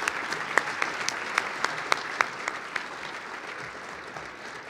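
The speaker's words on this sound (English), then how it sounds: "Round of applause for the Mountain Ridge Middle School athletes." Scattered clapping from an audience, a few sharp claps standing out over a steady patter that gradually thins.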